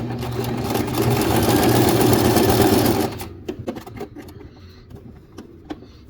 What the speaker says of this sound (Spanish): vemos que ya no se nos enreda el hilo y la máquina nos trabaja normal